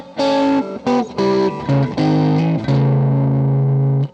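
Distorted electric guitar plays a short bluesy lick in harmonized sixths double stops, a run of plucked two-note chords with effects, ending on a sustained held pair, loud and alone.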